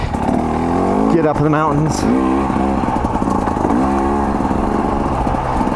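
A 2024 KTM 300 XC W dirt bike engine running steadily on a wet morning ride, with a couple of rising revs near the start, all under continuous talking from the rider.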